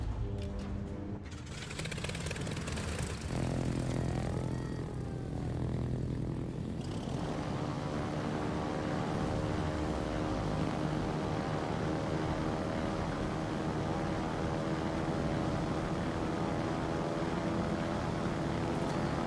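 Propeller aircraft engine drone of torpedo bombers in a World of Warships naval battle, a steady loud hum holding throughout with shifting tones early on and no talk.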